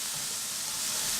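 Vegetables sizzle in a skillet, a steady, bright, close frying hiss with no break.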